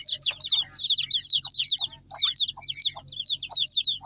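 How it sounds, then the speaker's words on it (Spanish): Young Japanese chicks cheeping and clucking close by in quick bursts of high, chirpy calls separated by brief pauses, with a faint low hum underneath. "tengo unos pollitos japoneses"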